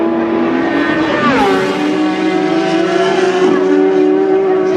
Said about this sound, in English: Now Big Sean Anderson on the BMW. Flag drops, away he goes.